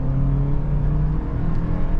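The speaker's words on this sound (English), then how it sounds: "you can slowly just feel the engine kick on when you need some power" A 2025 Toyota Land Cruiser hybrid's engine cuts in and pulls under acceleration, giving a steady, close, low mechanical drone with a smooth whir that holds through the short stretch.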